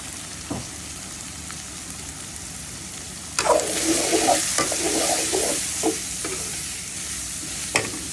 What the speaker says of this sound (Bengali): এখন একটু ভেজে নেব। হলুদ, মরিচ, ধনিয়া আর কিছু দেবো